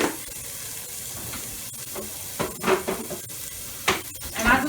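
Garlic sizzles in a pan with seared chicken, a steady frying hiss with occasional louder crackling bursts and stirring scrapes toward the end.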